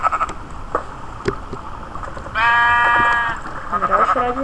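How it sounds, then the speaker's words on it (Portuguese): A video game sheep lets out a loud, wavering bleat for about a second mid-clip, preceded by clicky game sounds and followed by softer bleating tones. "Ah, ovelha, você tá me atrapalhando."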